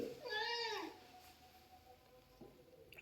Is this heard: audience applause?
no